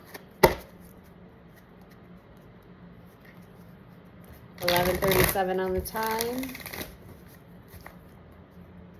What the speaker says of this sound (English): I already shuffled, but I am being called to shuffle again.